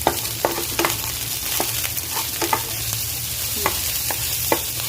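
Bell pepper and onion sautéing in a pan for chicken chilli gravy, a steady low sizzle broken by repeated short scrapes and clinks of stirring, close and moderately loud with no talking.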